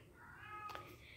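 A house cat gives a single short meow indoors, faint and brief against low room noise.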